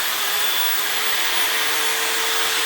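Makita 9032 power file, a 3/8" x 21" belt file used like a small belt sander, running steadily at full speed with a constant high-pitched whir and no talk over it.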